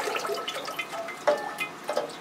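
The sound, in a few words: water flushing through orchid potting media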